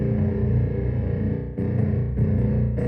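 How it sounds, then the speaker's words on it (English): DIY synthesizer tone run through delay with raised feedback, giving a dense, distorted, flanged and echoey sustained drone that briefly dips twice before swelling back, loud and steady with no talking. "This button increases the feedback of that delay, so it'll get more flanged and also a little bit like echoey."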